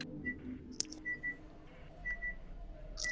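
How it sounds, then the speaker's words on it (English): An oven beeps while preheating somewhere off in the room, giving short, faint high tones, two in quick succession and then a few more spaced apart, over a quiet background with a brief click. "There's whistling or beeping coming from somebody. Somebody's microwave or something."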